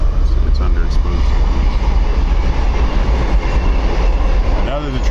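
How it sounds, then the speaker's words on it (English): A train rolls past a narrowboat on a canal, a loud, steady rumble with clattering wheels filling the whole stretch, while people talk over it. "And now there's a train going past."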